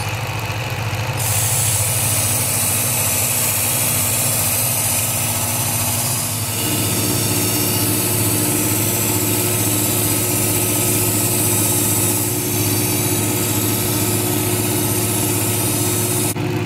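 A Work Sharp Ken Onion Edition belt sharpener runs loud and steady while a hand-forged kitchen knife is ground against the belt, a continuous close motor whine with a slight shift in tone partway through, no talking.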